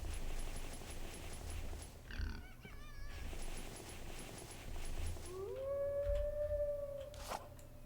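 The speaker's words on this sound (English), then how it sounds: "And we've got a wolf nearby, as you can hear." A wolf in the survival video game The Infected howls nearby, a long rising, wavering cry over steady wind-like game ambience, preceded by a shorter whining howl.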